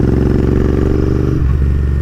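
A Royal Enfield Continental GT650 parallel-twin motorcycle engine revs loud and close, a steady throbbing drone that dips and shifts pitch near the end, with no talk over it.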